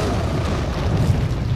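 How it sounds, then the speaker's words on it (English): A grenade goes off in Resident Evil 4 as a deep, sustained booming rumble that fills the whole moment, loud and close with no speech over it. "Grenade! Another grenade!"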